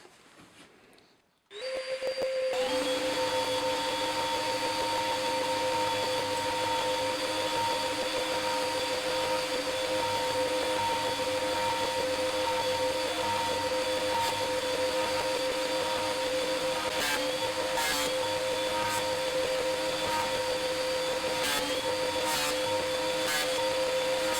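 A planer flattening a resin and hardwood coaster blank: the motor spins up and then holds a loud, steady, continuous whine, with a few faint clicks near the end and no talking.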